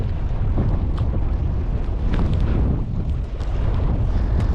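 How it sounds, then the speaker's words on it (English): Cold wind buffeting the microphone at a boat ramp while fishing: loud, continuous low rumbling gusts that roar and pulse throughout without pause. "The wind's supposed to die down like an hour ago."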